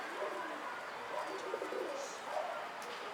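A pigeon coos softly and faintly against a quiet background, with a few brief calls over about three seconds.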